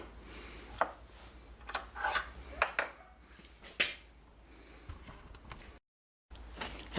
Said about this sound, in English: I just use an Allen wrench to push them up and out with.